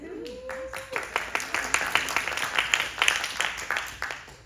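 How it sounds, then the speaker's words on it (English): A comedy show audience in Brights Grove, Ontario breaks into applause, scattered claps building into quick, uneven bursts of many hands, fairly close, with a brief voice at the start. "You did not need to applaud that"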